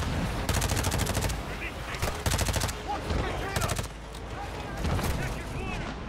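Lockman submachine gun from Modern Warfare II firing in three rapid automatic bursts, each roughly a second long, loud and close, separated by short pauses filled with game ambience, with someone talking over parts of it.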